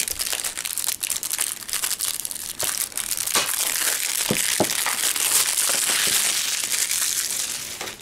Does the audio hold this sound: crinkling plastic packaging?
yes